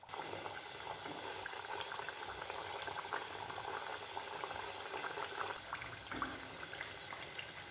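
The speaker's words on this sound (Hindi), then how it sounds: "यह हमने कढ़ाई में ऑयल लिया है, ऑयल को ज़्यादा तेज़ हमें गर्म नहीं करना है, मीडियम रखना है, और मीडियम पर ही हम इनको अच्छा क्रिस्पी गोल्डन सेक लेंगे।" Layered puff puri fry in oil in a kadhai over medium heat, giving a faint, continuous bubbling and gentle crackle that stays even throughout.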